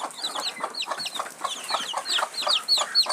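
Native country chickens cluck in quick, busy bursts at close range, several birds overlapping in a lively, continuous chatter.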